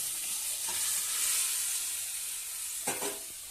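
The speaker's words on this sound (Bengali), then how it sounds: "এবার ভালো করে এর সঙ্গে মিশিয়ে নিচ্ছি খুন্তি দিয়ে দিয়ে" A spatula stirs a simmering fish curry with bottle-gourd stems in a pan, giving a steady close bubbling sizzle broken by two brief scrapes of metal on the pan, and no one speaks.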